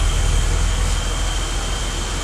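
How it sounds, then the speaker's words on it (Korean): Deep, steady exhaust drone from a BMW 635 CSI running in a garage, continuous and close, with a faint thin whine riding above the rumble. "웅장한 배기음이 아주 좋습니다."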